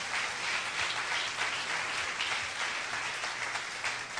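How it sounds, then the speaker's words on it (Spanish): A church congregation applauds during a sermon, steady dense clapping that fills the whole stretch at an even level with no speech over it. "Den un aplauso al Señor."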